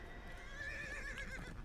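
A horse in the video game DDO whinnying once, a faint, reedy neigh sitting over a low rumbling background.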